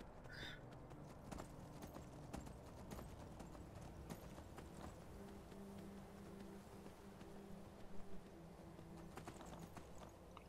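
Steady horse hooves clip-clopping at a walking pace through snow in the video game Skyrim, continuous and fairly close, with a low ambient hum and occasional scuffs beneath.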